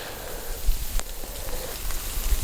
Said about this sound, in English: it's been raining the whole time, so we're pretty wet.